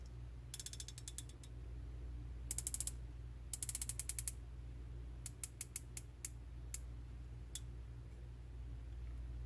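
Crisp, distinct clicks from the adjustment turret of an Athlon Talos BTR 1-4x24 rifle scope, heard in short bursts of several rapid clicks and a run of spaced single clicks, close and clear over a quiet background hum.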